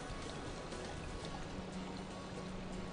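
Water of a stream in Ladakh flows in a soft, steady wash, faint and continuous throughout with no voices.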